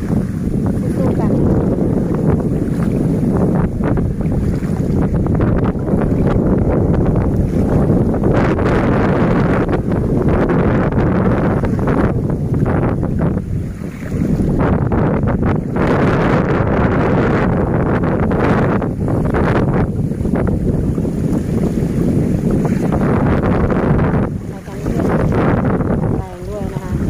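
Strong wind gusts roar across flood water covering a road, a loud continuous buffeting rush with sloshing water underneath and brief dips in the noise.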